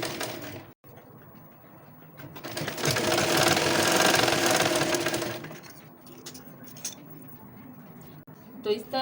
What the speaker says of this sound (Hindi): मिलाने के बाद इसके ऊपर सिलाई चला देंगे पूरे में